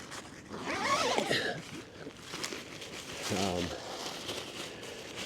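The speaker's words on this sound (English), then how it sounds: "Pull up the zipper, those waterproof zippers" A waterproof tent zipper rasps open in a quick pull, followed by crinkling fabric and a brief burst of nearby talking.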